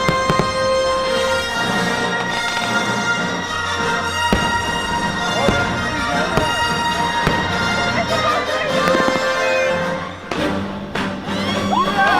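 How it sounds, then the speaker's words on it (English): Star Wars Celebrate the Night fireworks show at Disneyland, with continuous dense booms and crackles mixed with swelling music and crowd noise throughout, loud and sustained with a brief dip near the end. "we just caught the Star Wars Celebrate the Night fireworks show"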